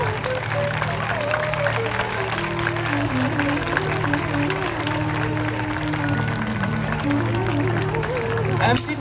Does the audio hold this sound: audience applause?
yes